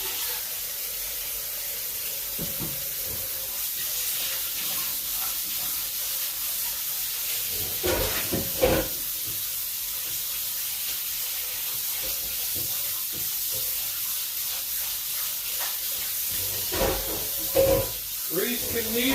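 Bacon frying in hot grease gives a steady, close hiss with scattered crackles and a few louder pops partway through.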